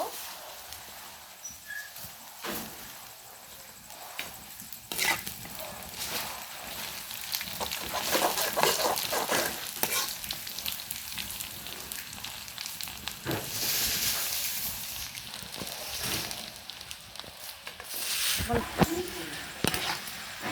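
Onions frying in oil in a pot give a broad hissing sizzle that rises and falls with stirring and clatter, with brief talk over it.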